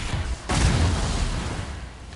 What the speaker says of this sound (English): Giant loud explosions.